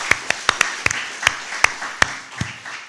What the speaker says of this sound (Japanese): 32年間導いてくださったイエス・キリストに大きな拍手を持って栄光を返しましょう。